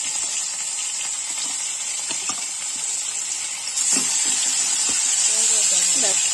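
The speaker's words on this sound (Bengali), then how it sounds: "গরম হয়ে গেছে, এক এক করে মাছগুলো ভেজে নেওয়ার জন্য মাছগুলো দিয়ে দিচ্ছি।" Fish pieces frying in hot oil give a steady, bright sizzling hiss throughout, swelling slightly louder in the second half as more fish is added to the pan.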